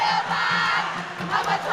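Spectators at a men's volleyball match between Cave Hill and St Augustine at the UWI Regional Games 2019 keep up a loud, continuous roar of crowd noise and chanting, steady throughout.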